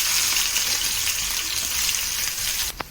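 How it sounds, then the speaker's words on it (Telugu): Chopped onions sizzle steadily and loudly in hot oil for a chicken fry, a continuous close crackling hiss with a brief clatter near the end. "ఉల్లిపాయలు వేసుకుందామండి."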